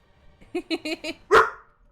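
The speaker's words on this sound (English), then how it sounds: "Don't you bark at me, sir." A pet dog lets out one sharp, close bark right after a person speaks a short line indoors.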